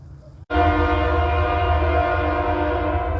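A Union Pacific train sounds its horn at night: one loud, sustained, steady blast that begins abruptly after a brief quiet moment and carries through to the end.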